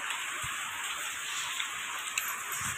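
Heavy rain pours down in a Karnataka village, a steady, even hiss of falling water with a few soft thuds, heard alone without talk.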